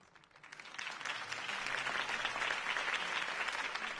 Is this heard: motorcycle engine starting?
no